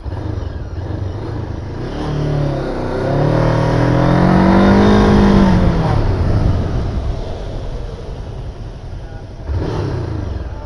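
An MBP 502 naked motorcycle accelerating nearby, its engine note rising and pitching upward to a loud peak mid-run before easing off, then a second surge near the end.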